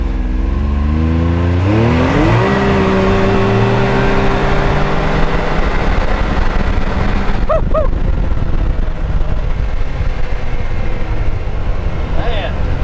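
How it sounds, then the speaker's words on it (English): Can-Am off-road vehicle doing a boosted launch, its engine rising steeply in pitch as it accelerates, then holding a loud roaring drone with wind rush, voices faintly under the noise. "Do a little boosted launch."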